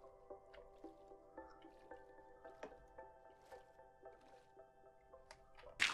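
Water dripping in the video game Minecraft: quiet, irregular drips and squishy plops over a faint steady hum, ending in one brighter splash, with no talk.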